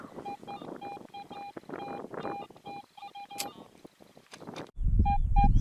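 Short electronic beeps from a metal detector repeat in a steady rhythm over outdoor rustling and wind, ending with a couple of beeps against louder rumbling noise.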